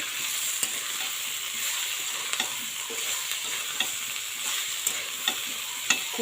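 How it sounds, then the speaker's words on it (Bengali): Spices being stirred in a hot pan while cooking a thick papaya curry, a steady sizzle with a spoon scraping and tapping at irregular intervals, close and moderately loud, no talking. "এই দেখুন মশলাটা দিয়ে দিচ্ছি আমি এটাকে এবার সুন্দর করে নাড়াচাড়া করবো"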